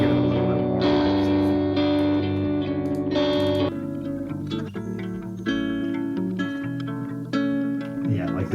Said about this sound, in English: But I do have a delay on here just to give it a little bit more